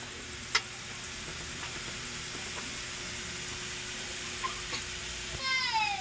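Chayote sautés in a pan while being stirred, giving a continuous soft sizzle with scattered scraping and clinking of the utensil, and a brief hissing burst near the end.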